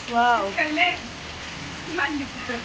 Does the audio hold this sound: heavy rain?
yes